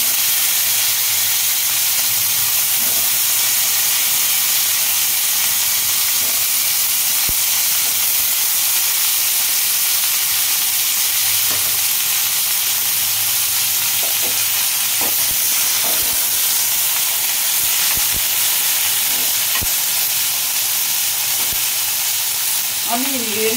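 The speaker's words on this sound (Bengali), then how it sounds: "সঙ্গে আমি একটু হলুদ দিয়ে দিচ্ছি। এগুলোকে একটু ভেজে নেব।" Okra fries in oil with turmeric in a pan, a loud, steady sizzle and hiss that runs continuously, with occasional light stirring clicks.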